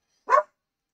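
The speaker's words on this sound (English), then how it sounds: "had to pause for a bit while my dog was yapping" A single short dog bark or yap sounds close by indoors, alone against silence.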